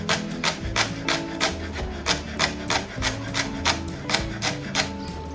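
A knife chops green onion finely on a cutting board, with steady rapid rhythmic knocks close up, about two to three strikes per second, with no talking.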